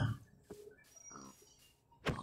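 A pig in the video game Minecraft gives a few short, separate grunting oinks at moderate volume against quiet game ambience.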